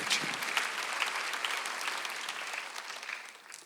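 A congregation applauding during a Sunday worship service at a Korean church: a continuous, fairly faint wash of many hands clapping, steady throughout with no break.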